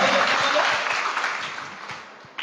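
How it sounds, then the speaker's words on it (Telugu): Audience clapping at a church gospel meeting, a loud burst that slowly tapers off, with faint voices underneath. "ఆమె గట్టిగా చప్పట్లు కొడదాం."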